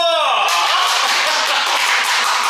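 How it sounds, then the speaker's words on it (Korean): Applause from a small audience welcoming an eyewear designer, a close, steady patter of clapping that follows a brief spoken cue and continues for a couple of seconds. "박수!"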